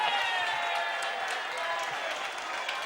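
Football crowd at an SANFL match between Glenelg and West, a broad, sustained roar of cheering and applause after a Glenelg goal, distant and steady without a break.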